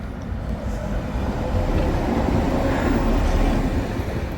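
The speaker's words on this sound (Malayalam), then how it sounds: "തിരിച്ചു വരുന്ന ഒരു ട്രാം." A tram rolls along the Danube riverside in Budapest, a steady low rumble of wheels on rails that swells slightly as it passes at moderate distance, with outdoor street ambience and no talking.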